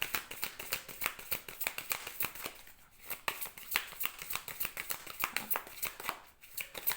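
Oracle cards are shuffled close up in a rapid, continuous riffling flutter of soft papery slaps, quiet and steady for several seconds with brief pauses.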